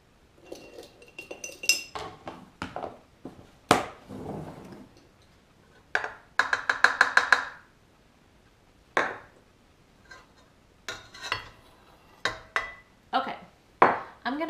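Yeast bread batter, for Ezekiel bread, being stirred in a bowl: a run of clinking, scraping utensil knocks against the bowl, uneven and close, with brief speech-like bursts mixed in.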